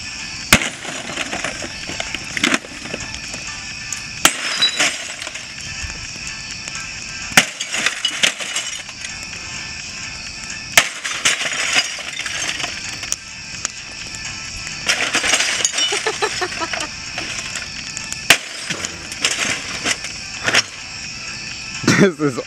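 Repeated heavy smashes and crunching glass break against a Dodge Hellcat's body, in irregular bursts with sharp clinks between the blows.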